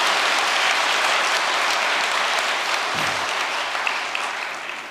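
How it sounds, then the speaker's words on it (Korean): A large crowd applauds at a New Year's prayer gathering held in Korean, a loud, dense, sustained clapping that holds steady and then slowly tapers toward the end. "박수 한번 크게 한번 보내주시면 고맙겠습니다"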